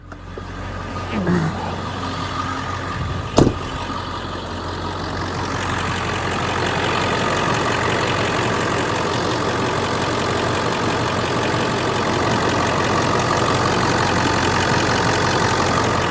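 A 2000 Ford Excursion XLT's 7.3L Powerstroke diesel, 4WD with 119k miles, idles steadily with a low rumbling drone and an even ticking clatter. A brief clunk comes early on, then the idle holds loud and constant, with wind noise mixed in.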